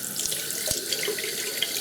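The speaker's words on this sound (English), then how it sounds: "Just rinse that with hot water" Hot tap water runs steadily over a razor's top cap as it is rinsed after shaving, a close, continuous splashing stream with faint knocks of the metal part moving under the flow, no talking.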